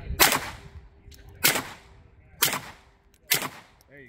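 Four loud gunshots at a shooting-competition stage, evenly spaced about a second apart, each with a sharp crack and short echoing tail, near and alone without talk.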